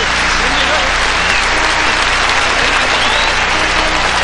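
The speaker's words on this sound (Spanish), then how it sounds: "Un aplauso para Carlos." Steady, dense audience applause for a keyboard player at a live concert by a Puerto Rican singer, loud and continuous throughout with a faint crowd murmur underneath.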